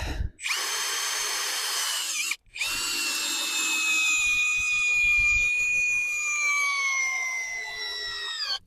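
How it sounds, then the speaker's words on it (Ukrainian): Vitals PAU 1870 BS SmartLine cordless drill-driver driving a screw into pine, a loud sustained motor whine with shifting pitch, briefly stopping and restarting, close up and alone. "Пробуємо. Фух, поїхали."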